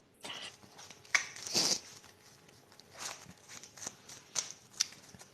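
Yu-Gi-Oh trading cards being shuffled by hand, a run of soft, quick riffling bursts and light slaps, close and fairly quiet, with no talk.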